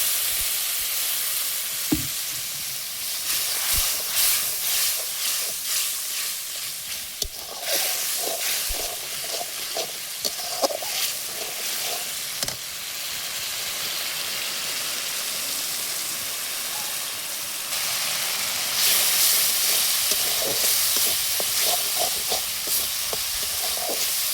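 Spices and chilli being sautéed in a pan give a steady sizzle and hiss with scattered scraping stir clicks throughout, fairly close and continuous, with no talking.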